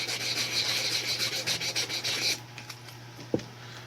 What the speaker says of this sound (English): we're gonna sand this down